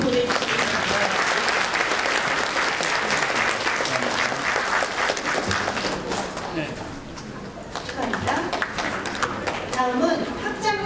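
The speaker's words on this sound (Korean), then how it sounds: "큰 박수 보내주시겠습니다" Sustained, loud applause from an audience at a university graduation award ceremony in Korea, a dense wash of clapping that dips briefly midway and then swells again, with the host speaking over it.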